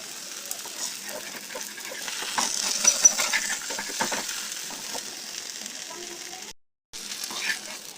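Kara dosai spread with spicy chutney cooks on a pan over a medium flame, giving a soft continuous sizzle with light crackles that swell briefly and stop for a moment near the end.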